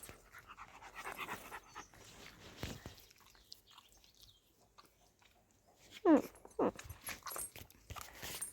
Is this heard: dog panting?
yes